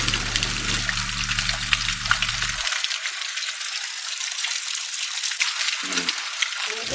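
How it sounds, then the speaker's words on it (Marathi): Water pouring from a stone gomukh (cow-mouth) spout beside the Keshavraj temple in the Konkan, a steady close splashing gush that sounds like continuous running water, with low rumble at the start. "मंदिराजवळ एका गोमुखातून पाणी वाहताना आपल्याला दिसत असतं."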